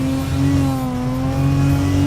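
Maserati MC12 GT1 race car engine in the Simraceway racing game, a loud steady high-pitched drone held under acceleration with no break, close and alone.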